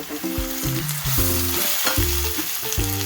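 Onions frying to golden brown in a pan for prawn biryani, a steady loud sizzle with tonal background music throughout and no voices.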